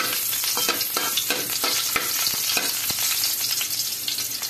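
Garlic sizzles steadily in hot cooking oil in a pan, a constant close crackle broken by repeated sharp taps and scrapes of a spatula stirring, with no voices.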